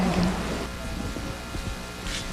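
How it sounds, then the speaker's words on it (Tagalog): Heavy gusting rain pours down in Bataan during a storm, a steady loud wash of drops hammering surfaces with low rumbling underneath, surging slightly at the start and end, no voices. "Mike, hanggang ngayon nga pabugso-bugso pa rin ang ulan dito sa Bataan"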